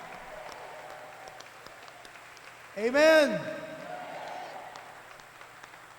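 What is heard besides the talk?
congregation clapping hands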